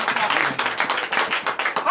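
Church congregation at a night deliverance and prophecy service clapping and cheering in acclamation of Jesus, a loud close burst of fast mixed claps with shouting voices blended in.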